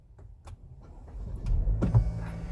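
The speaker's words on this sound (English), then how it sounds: "we'll start up the vehicle." A Buick Envision engine starts up, giving a low rising rumble that builds to a steady idle after a few faint clicks, heard close from inside the cabin.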